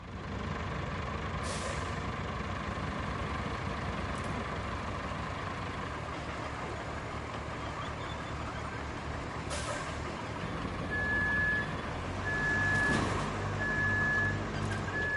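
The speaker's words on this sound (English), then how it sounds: "We'll move the tipper." A tipper truck in the video game Roadcraft rumbles at idle and moves, with air-brake hisses and, near the end, steady reversing beeps growing louder as the engine works harder. No one talks.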